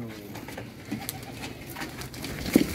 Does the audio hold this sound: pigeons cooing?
yes